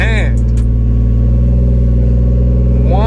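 A Toyota 1JZ engine in a Lexus IS300 rumbles loudly and steadily at close range, settling into a constant idle drone after a brief rising start.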